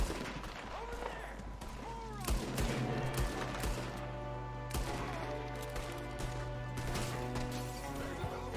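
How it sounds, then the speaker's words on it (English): Gunfire in Red Dead Redemption 2 cracks out in a string of sharp shots, several close and loud and others farther off, over a steady background hum, with characters shouting during the exchange. "There's another one shooting from the window."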